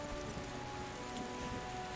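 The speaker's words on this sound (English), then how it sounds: "What a downpour." Heavy downpour in The Witcher video game hisses steadily and evenly, a soft continuous wash of rain with no voices over it.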